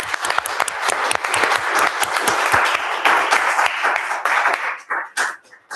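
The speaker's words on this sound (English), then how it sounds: "I want to have a round of applause" A park audience applauds a volunteer coordinator's 25 years of service at a state park: loud, close, dense clapping from many hands, steady for most of the stretch, then thinning into scattered claps before stopping.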